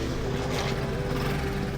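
A rebuilt motorcycle engine runs with a steady, even drone, close and moderately loud, with no voices.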